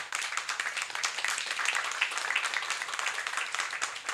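Applause from an audience at a COP 16 event announcing Amazon fund projects: steady, dense clapping from many hands, fairly soft and distant, running evenly for about four seconds without talk.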